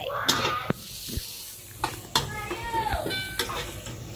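Onion, ginger and garlic stirred and fried in a pan for chicken curry, with scattered clinks of a utensil against the pan over a soft background sizzle.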